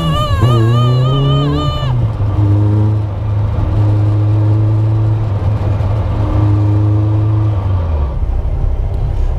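Caterham Seven 360R engine under way, a loud close droning roar that climbs in pitch through the revs, shifts gear and then holds a steady cruising note.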